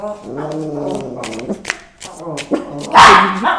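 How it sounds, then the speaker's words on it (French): A dog barks and yips nearby, ending in a louder sharp bark, while a person talks. "Il y a un chien"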